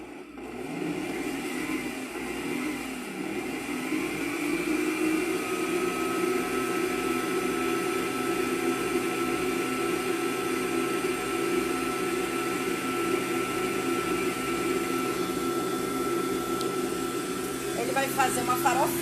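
A stand mixer beats butter cookie dough in a home kitchen, a steady continuous motor whir with a broad drone running nearly unchanged throughout, with a brief clattering knock near the end.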